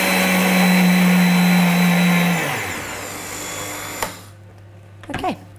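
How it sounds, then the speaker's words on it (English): A kitchen blender grinds coconut with a loud, steady high whine that winds down and stops after about two seconds, followed by a sharp knock and brief clattering handling sounds. "if you keep blending coconut you can actually create your own coconut butter"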